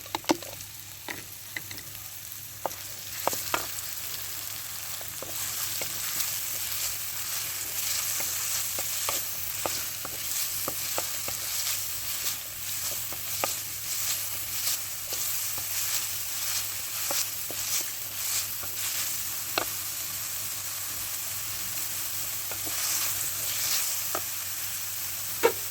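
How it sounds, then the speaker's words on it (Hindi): Chopped onion and green chillies frying in ghee for samosa stuffing, a soft steady sizzle with frequent light clicks and scrapes from stirring. "प्याज 1 मीडियम साइज़ का काट के मैं इस घी में भून लेने लगी"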